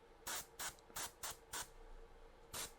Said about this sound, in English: I'm going to spray. I'm going to start, do a hard spray.